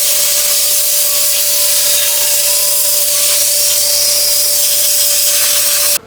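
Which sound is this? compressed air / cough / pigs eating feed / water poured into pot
compressed air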